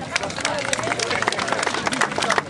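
Applause from the audience at a town twinning ceremony, a steady stretch of many hands clapping with crowd murmur mixed in.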